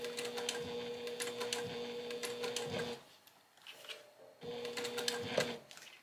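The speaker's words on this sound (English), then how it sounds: "you want to end up sewing about 1/8 of an inch away, just like you've been doing all your other top stitching along the zipper" A sewing machine top stitches a bag gusset, working slowly around D-ring hardware. Its steady mechanical whir runs close and clear, pauses around the middle, then starts up again.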